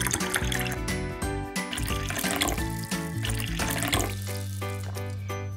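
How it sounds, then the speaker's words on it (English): Water pours steadily into a bowl holding two spoonfuls of cornstarch, a continuous splashing trickle over bright background music that runs throughout. "Add twice as much water."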